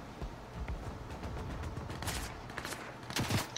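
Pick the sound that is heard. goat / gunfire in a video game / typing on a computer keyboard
gunfire in a video game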